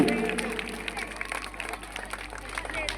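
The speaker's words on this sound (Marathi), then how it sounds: "जोरदार टाळ्या झाल्या पाहिजेत कीर्तीताईंसाठी" A crowd claps for a guest at a temple anniversary celebration in Kargil Nagar, with dense, continuous applause under someone speaking loudly over it.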